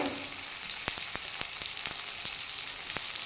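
Tomato frying with chilli powder and cumin powder in a pan gives off a constant close, bright sizzle. Irregular stirring clicks and taps sound over the hiss, with no one talking.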